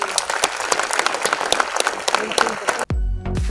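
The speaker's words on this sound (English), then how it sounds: "so a big round of applause for her." Audience at an international medical conference applauds a departing actress with a sharp, dense round of clapping that cuts off abruptly near the end, followed by music.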